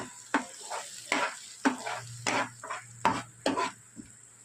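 Onions and tomatoes being stirred and fried in a pan for egg curry, with a steady sizzle broken by about seven sharp spoon scrapes and stirs in an uneven rhythm, close and fairly loud with no talking.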